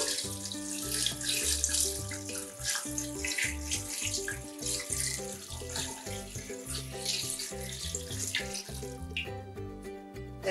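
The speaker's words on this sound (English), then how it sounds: "we're going to fill the pot with a whole bunch of water" Water runs steadily from a tap into a stock pot for turkey stock, a continuous close, loud gushing rush.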